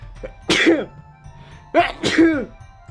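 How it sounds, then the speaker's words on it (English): Several loud, close sneezes or sneeze-like bursts in quick succession, one, then two more a moment later, each sharp and breathy. "I have to sneeze."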